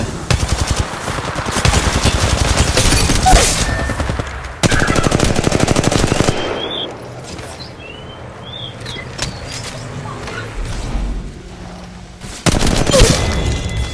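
Automatic gunfire in Apex Legends Mobile comes in loud, rapid sustained bursts, with quieter stretches of distant shots and small effects between them before a final close burst.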